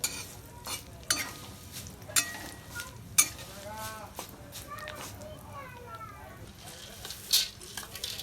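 Curry leaves fry in oil for a homemade puffed rice chivda, a faint, steady sizzle broken by sharp clicks and scrapes of stirring, with someone speaking quietly over it.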